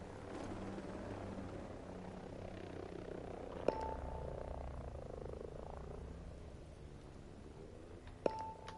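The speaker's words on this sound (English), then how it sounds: "Enemy chopper in the AO." An enemy helicopter in the video game Ghost Recon Breakpoint gives a steady, low rotor drone that fills the whole stretch, with two short, sharp electronic beeps cutting in over it; no one speaks.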